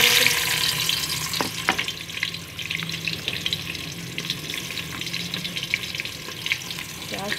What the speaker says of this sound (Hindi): इसमें प्याज डाल देते हैं।